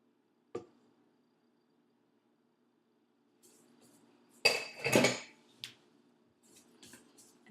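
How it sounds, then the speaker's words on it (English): Metal utensil scraping and clinking against a stand mixer paddle and bowl while peanut butter icing is cleaned off, a single sharp tap followed by a louder cluster of scrapes and a few lighter knocks. "I'm going to clean off the paddle."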